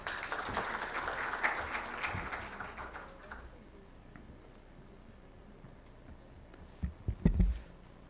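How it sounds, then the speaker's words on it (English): Applause from an audience at a stock exchange listing ceremony, a steady clapping crowd that fades out gradually, followed by a few louder nearby handling bumps at the end. "Let's make a big round of applause."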